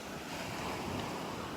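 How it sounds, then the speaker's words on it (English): Small waves wash in at Delnor-Wiggins beach under gusty, howling wind that buffets the microphone with a constant low roar. "Loving these little waves this morning. I'm just loving the fact that I'm out walking in the howling wind."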